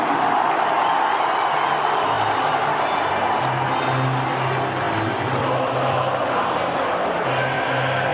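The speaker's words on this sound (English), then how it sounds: "The Collingwood chant goes up around the ground" A packed MCG crowd at the 2023 AFL grand final between Collingwood and Brisbane roars and chants as Collingwood run out, a dense, loud, unbroken wall of cheering and clapping that fills the whole stretch.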